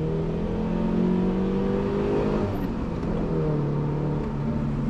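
A car engine pulls hard at high speed after passing 100, its steady droning note rising under throttle with wind and road roar, loud and continuous with no talk.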